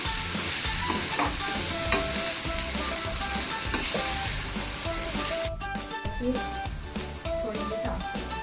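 Avalakki uppitu stirred in a frying pan, a close, busy sizzle with repeated scraping and stirring strokes that continue throughout, the hiss thinning slightly toward the end; no one speaks.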